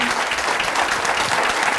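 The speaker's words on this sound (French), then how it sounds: "Vous pouvez l'applaudir en tout cas." Steady applause from an audience at an oyster-shucking competition, dense clapping that fills the whole moment without a break.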